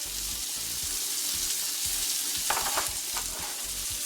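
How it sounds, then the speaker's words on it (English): Onions sautéing in butter in a pan give a steady close sizzle, with a brief burst of stirring scrapes midway; no one speaks. "now we're going to saute off our onions a little bit"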